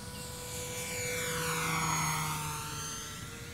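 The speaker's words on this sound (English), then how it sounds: "It flies like a solid low-wing sport plane." A Tower Hobbies Cessna 400 RC model airplane, a 1.1 m low-wing sport plane, flies past with a steady propeller buzz. It swells louder toward the middle of the pass, then fades as it moves away.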